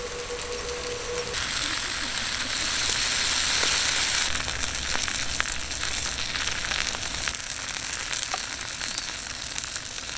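Food sizzling steadily as a second batch grills on an electric cooker run from a portable power station, a dense close crackle throughout with occasional faint talk.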